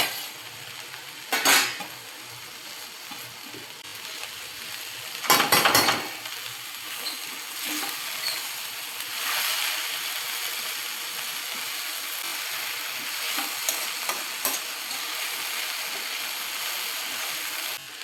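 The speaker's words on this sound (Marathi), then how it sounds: "आता आपण ही चिरलेली फोरशीची भाजी ह्याच्यामध्ये ॲड करायची आहे." Chopped fodshi wild monsoon greens are stirred in a pan with a low steady sizzle, a couple of louder metal scrapes and clanks from the utensil standing out near the start.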